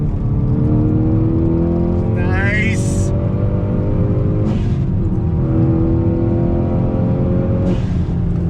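Hyundai Veloster N engine droning and revving under load while driving, with rising pitch sweeps and abrupt shifts between gears, a close, loud drone throughout with a man's brief exclamation.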